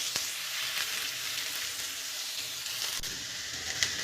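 Chopped onion sizzles and fries steadily in a pan, Kerala-style cooking for chicken cheese balls, with a soft constant crackle and a few light clicks, close and fairly quiet with no talking.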